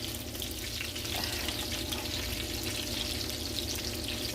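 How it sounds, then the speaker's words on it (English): Angus beef meatballs fry in olive oil and are turned in the pan, giving a steady, even sizzle that runs unbroken and fairly close throughout, with no voices. "Let me turn my meatballs, give them a little stir and coating over here."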